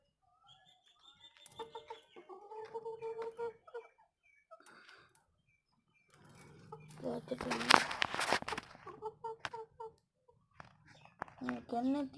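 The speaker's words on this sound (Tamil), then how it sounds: "இதுதான் நம்ம சேவல் கோழி." A rooster kept in a village yard calls loudly and close at mid-clip, with softer clucks and chatter of fowl around it and someone talking in between.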